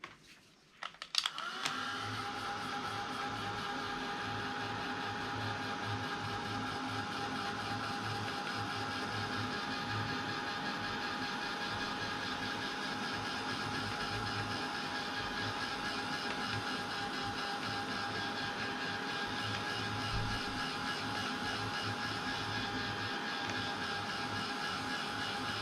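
Heat drying tool blowing steadily on a handmade ocean-themed greeting card, a constant close whirring hum that starts abruptly after a click and runs unbroken to the end, with no speech.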